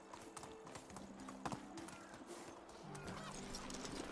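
Horse hooves clip-clop in a steady, brisk rhythm as the horse moves along in the Medieval Dynasty game, moderately close with a faint outdoor background.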